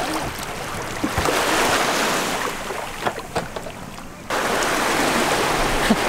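Boat ride on a calm sea in Thailand, with a steady close rush of water and hull wash under wind noise; a brief dip in level midway, then the continuous churning resumes.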